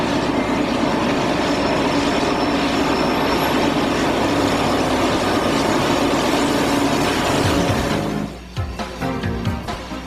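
A freight train rumbles steadily past close by, its wheels roaring and clattering over the rails for several seconds before the noise thins and the cars clack away.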